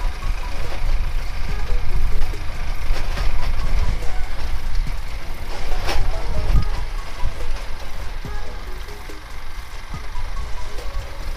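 Motorcycle ridden without cargo on a morning road trip to work in Agrovila Miraíma, Ceará; a continuous loud engine drone with wind noise runs steadily throughout.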